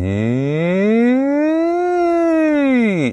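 A voice imitates a siren, gliding up in pitch and then sweeping back down in one long, smooth, loud wail.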